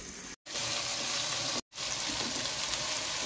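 Tomato and ginger-garlic paste masala frying hard in a pan over a high flame, giving a steady, dense sizzle close by, broken by two brief silent gaps.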